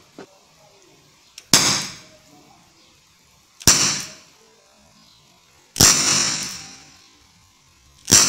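Three sharp, loud pops from an SRC Magnum .357 CO2 airsoft revolver ring out, evenly spaced, each with a hissing burst and quick decay, followed by the start of a fourth.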